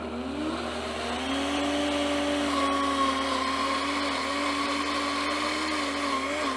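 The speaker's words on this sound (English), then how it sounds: "We're gonna go ahead and turn it back on, and now we're gonna vacuum blend." A Vitamix blender runs in vacuum blend mode with a steady whirring motor hum and a faint high whine rising slightly partway through, continuous and close, with no talking.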